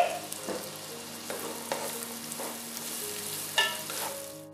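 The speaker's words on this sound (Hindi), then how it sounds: "हम इसमें किशमिश डाल देंगे और 1 मिनट के लिए सौटे कर लेंगे।" Carrots and raisins sautéing in a pan for rice, a steady close sizzle with scattered scraping stir strokes and a few sharper clinks, no voices.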